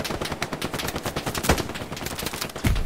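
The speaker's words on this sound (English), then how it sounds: "Yo, I'm getting shot from the east side." Rapid gunfire in the World War II shooter Hell Let Loose, a dense run of loud automatic bursts with sharper single cracks standing out.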